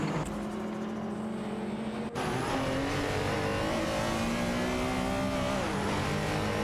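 Porsche 944 Turbo and Porsche 968 Turbo race car engines in a racing game drone loudly and continuously, revving and shifting pitch as the cars hold close together.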